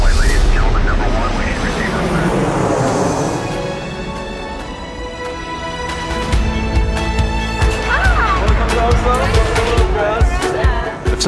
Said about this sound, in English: We're at the takeoff end of the runway, ladies and gentlemen.